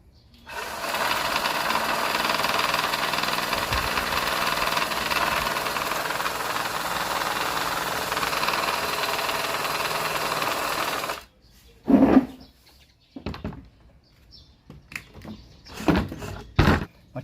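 A cordless drill spins a homemade paddle propeller with a steady, buzzing motor whine for about eleven seconds, then stops, leaving scattered knocks and handling noises.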